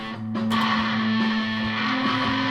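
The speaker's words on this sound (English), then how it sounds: "now I've got two very heavy distortion pedals, three pedals on basically" Electric guitar run through two heavy distortion pedals, three pedals in total, roars in a thick, sustained buzzing chord that starts with a sharp attack and rings on steadily.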